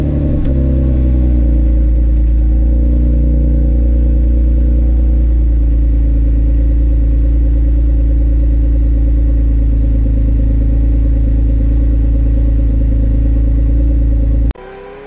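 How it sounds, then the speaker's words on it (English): A 2010–2015 fifth-generation Chevrolet Camaro engine cold-starts, then holds a loud, steady high idle for about fourteen seconds, heard up close with no talking, before cutting off abruptly. "let's hit you guys with a nice cold start"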